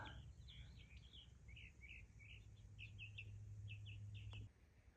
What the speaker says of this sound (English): Can you hear the birds though?